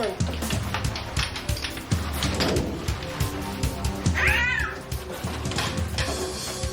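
Several cats meow and yowl in a cluttered hoarder's basement, repeated loud close cries, one rising caterwaul in the middle, over knocking and shuffling noises.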